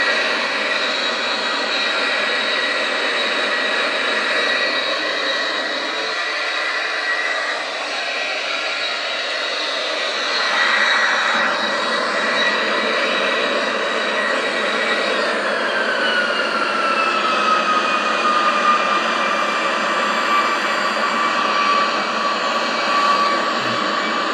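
Jet engines of a Boeing 737-800 NG in EL AL livery roar steadily during a climb after a touch-and-go in the X-Plane flight simulator, a loud sustained whine with tones that shift and slowly glide downward.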